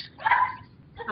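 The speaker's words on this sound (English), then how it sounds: "there's a dog." A dog barks in the background of a video call, two short, sharp yaps separated by a brief pause, moderately loud and slightly thin.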